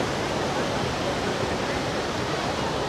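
Dhuandhar waterfall at Bhedaghat, running with low water flow, gives a steady, broad rushing roar close by, constant with no breaks and no voices.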